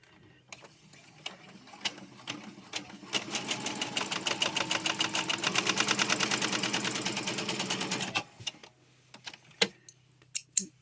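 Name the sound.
sewing machine hemming face mask edge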